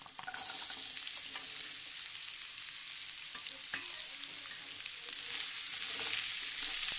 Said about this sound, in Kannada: ಇದನ್ನು ಕಾಯ್ಕೊಂಡು ಚೆನ್ನಾಗಿ ಫ್ರೈ ಮಾಡಬೇಕು